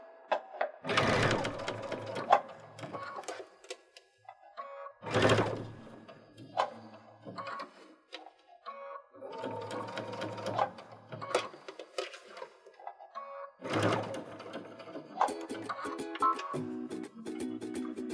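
A sewing machine stitches a necktie being upcycled into a scarf, running in several separate bursts of rapid stitching with quiet pauses and small handling clicks between them.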